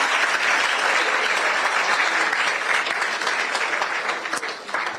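An audience at an event keeps up loud, sustained applause, a dense wash of many hands clapping that tapers slightly near the end.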